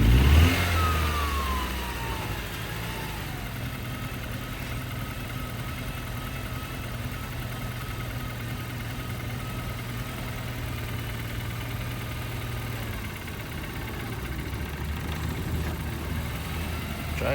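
An auction vehicle's engine cranks and catches after a jump start, giving a brief rev before settling into a steady, rough, moderately loud idle that runs on alone.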